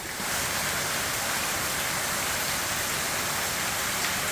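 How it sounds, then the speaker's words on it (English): Heavy rain pouring during Hurricane Erick in Huatulco, Mexico, a dense, unbroken hiss of downpour that stays loud and constant throughout, with no voices. "it's still raining. It's rained all night."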